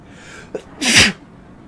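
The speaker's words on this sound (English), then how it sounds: "Oh my gosh, that was a sneeze I needed to do." A single sharp human sneeze, close and loud, with a short inhaled catch just before the explosive burst and quiet breathing around it.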